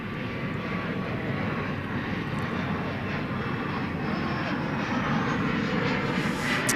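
An American Airlines jet departs at night from Dallas Fort Worth airport, a steady, broad engine roar holding loud and continuous throughout, swelling slightly toward the end with a faint voice in the background.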